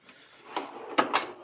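The bottom drawer of a 72-inch Snap-on Masters Series toolbox slides and closes, giving a brief rolling glide followed by two quick metallic clunks, close by.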